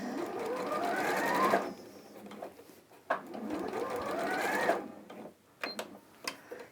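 A sewing machine stitches curved seams on a dress, running in two long steady bursts with short pauses between, close and fairly loud, then a few brief clicks and taps.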